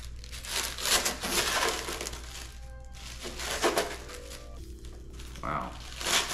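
Protective plastic film is peeled off a brand-new Arrma Infraction Mega RC car, with crinkling and tearing rustles in uneven bursts up close and brief pauses, while a person talks nearby.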